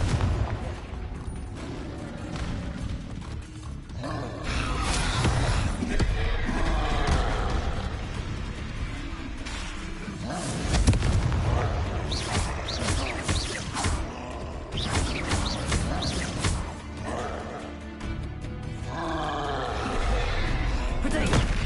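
Repeated Confringo blasting-spell explosions in the video game Hogwarts Legacy, dense loud bursts and booms recurring throughout amid busy combat effects, with spell incantations voiced over the action.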